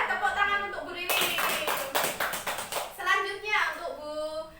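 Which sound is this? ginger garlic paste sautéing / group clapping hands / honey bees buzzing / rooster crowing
group clapping hands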